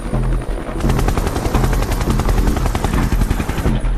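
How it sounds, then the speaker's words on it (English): A Seahawk navy helicopter flies close by, its rotor thudding in a fast, steady beat with a loud engine whine, alone and without talk throughout. "There are also twice daily patrols for the Seahawk helicopter, nicknamed Pegasus."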